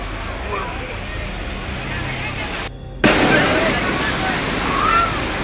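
Rameshwar waterfall at Jamkhed in the monsoon roars in a loud, continuous rush of falling water and spray, briefly cutting out for a moment before surging back even louder.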